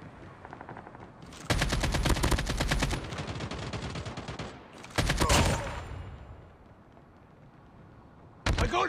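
Rapid automatic gunfire in a Call of Duty team deathmatch, loud bursts around two seconds long with shorter volleys between and a final burst at the end.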